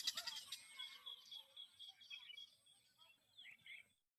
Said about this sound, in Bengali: তার কাটায় পাখি বসে রয়েছে পাখি ডাকতেছে শোনা যায়